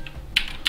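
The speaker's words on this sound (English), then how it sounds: "Sorry about my keyboard, it's probably really loud." Computer keyboard keys click loudly in two short, distinct strikes with a faint tap earlier, close up in a quiet room during a 3D modeling session.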